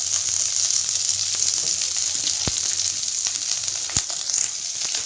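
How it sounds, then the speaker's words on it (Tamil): Onions sauté in hot oil, with garlic going in for a drumstick dish. A loud, steady sizzle carries throughout, broken by two sharp clacks of a utensil against the pan, with no talk. "இப்போ வந்து வெங்காயத்தை போட்டு வதக்கிக்கலாம்."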